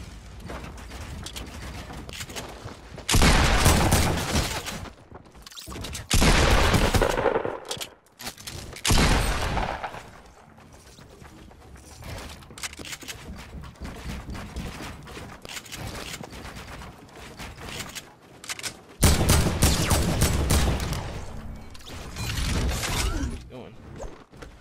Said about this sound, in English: Someone shot me from distance.